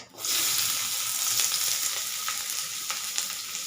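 Chopped onions, garam masala, cinnamon and dried red chillies frying in hot oil for a Bengali dish, a steady close sizzle that starts abruptly and holds throughout, with faint scraping stirs and no talking.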